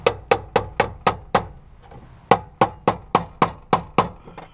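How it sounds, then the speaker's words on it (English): A hammer striking a screwdriver to pry off a part during a fuel pump replacement on a 2010 Nissan Armada: sharp metallic taps in two quick rhythmic bursts of about six each, separated by a short pause, close and clear. "so the old hammer and screwdriver"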